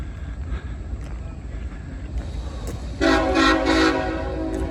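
An RJ Corman coal train moving onto the CSX main line at an interchange rumbles under low background noise, then blasts a loud horn near the end in several short bursts.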